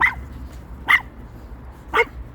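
A dog barks three times, short sharp barks spaced about a second apart over a quiet background.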